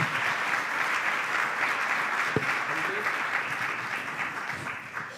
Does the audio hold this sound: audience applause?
yes